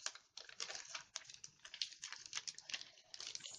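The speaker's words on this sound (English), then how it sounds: "I'm gonna rip it up." A sheet of paper is torn and ripped up in a quick series of short, crisp tearing and crinkling bursts, close and fairly quiet, with no talking.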